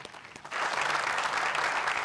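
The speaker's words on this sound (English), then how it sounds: "I think they deserve a clap." Audience applause at a college commencement ceremony breaks out suddenly after a short quiet lead-in, then continues as steady, dense clapping, loud and close, with no talk over it.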